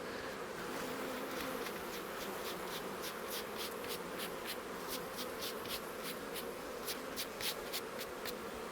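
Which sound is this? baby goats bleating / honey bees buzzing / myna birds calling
honey bees buzzing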